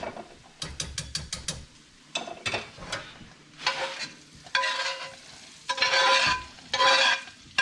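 Sausage dropped into a pan of gravy base and stirred through its own fat: sharp scraping and clattering bursts of a utensil against the pan, then longer sizzling stirs, close and fairly loud with no talking.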